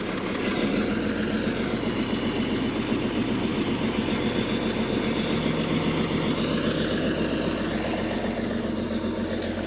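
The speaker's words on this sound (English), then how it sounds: "doesn't that engine sound sweet?" An old bulldozer's large diesel engine idles steadily with a low, even rumble and mechanical clatter, running continuously with no talk.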